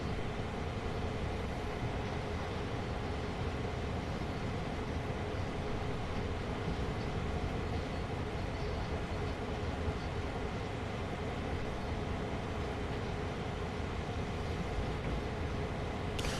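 Train rolling through the Hamilton Yard area in the Train Sim World game, a continuous loud rumble of wheels and engine that holds steady and unbroken throughout.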